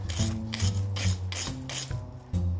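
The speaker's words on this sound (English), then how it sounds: "So these chains now have been wire brushed." Wire brush scrubbing steel snowblower tire chains, a harsh rasping in repeated back-and-forth strokes about every half second, close and fairly loud with a low rumbling hum beneath.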